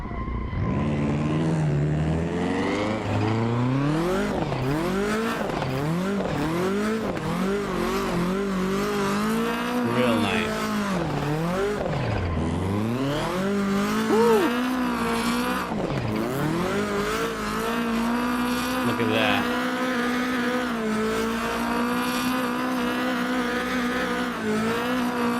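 BDC V6 drift car in Assetto Corsa, engine revving continuously with rising and falling pitch as the throttle is worked, loud and close throughout with tire noise and no pauses.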